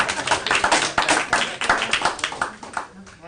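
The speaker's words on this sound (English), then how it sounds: "This deserves a clap." Committee members at a school committee meeting in North Kingstown clap for their work, a small group's brisk, uneven handclaps close by, with voices murmuring underneath.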